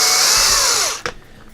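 A power driver whines loudly and steadily as it drives a long self-tapping screw into the plastic diff housing of an Axial EXO Terra buggy kit, then cuts off with a short click and rattle.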